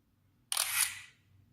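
A Sharp Aquos Crystal smartphone camera takes a selfie with a single crisp shutter click followed by a short fading mechanical swish, close and clear against near silence.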